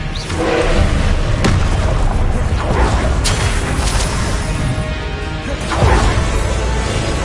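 Hogwarts Legacy spell combat with Confringo blasts: several sharp bursts and crashes, with whooshing magical impacts spread through a continuous dense clatter of battle noise, all close and loud.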